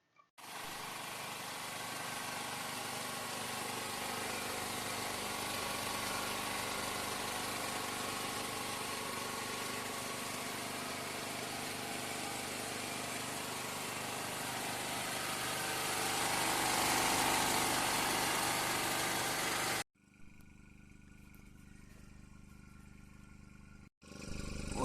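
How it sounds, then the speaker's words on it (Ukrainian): A petrol generator runs with a steady droning hum for most of the stretch, then cuts to quieter background before starting up again. "Так працює генератор."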